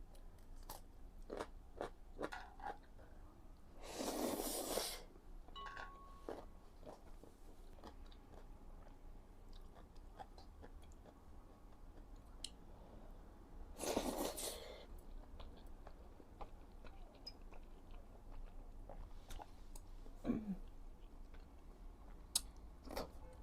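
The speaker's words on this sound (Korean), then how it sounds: "총각김치가 아삭아삭하니 이제 익기 시작해가지고 엄청 맛있어졌어요." Crisp ponytail radish kimchi (chonggak kimchi), beginning to ferment, is eaten close up: two loud crunchy bites about ten seconds apart, with quieter chewing and small clicks between them and no talking.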